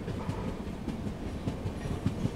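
A Rajasthan Humsafar Express passenger train runs on a curve near Phulera Junction, with a steady low rumble and rhythmic clickety-clack of the wheels over rail joints, heard from aboard and continuous throughout.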